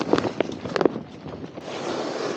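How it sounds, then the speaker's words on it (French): After a few clinking knocks, a steady rush of mountain wind swells and holds at a ski-touring bivouac, a broad airy noise that grows stronger toward the end. "Le vent se lève bien."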